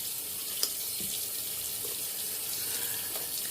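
Tap water runs steadily into a bathroom sink as a face is rinsed after shaving, a continuous close hiss with small splashes and no speech.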